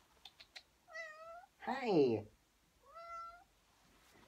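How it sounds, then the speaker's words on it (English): A cat meows twice indoors, a drawn-out mew followed later by a second softer one, with a brief spoken greeting between them and a few faint clicks at the start, all fairly quiet and close. "Look at that cute cat."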